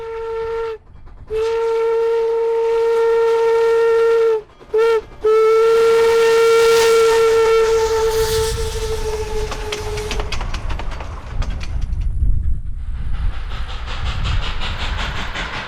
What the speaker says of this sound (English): we catch K27 Mudhen number 463 as she pulls the daily train out of Antonito yard limits